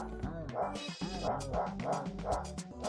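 Cartoonish dogs in the video game QT give a run of quick, high yips and barks, about five or six in under three seconds, over a steady musical backdrop.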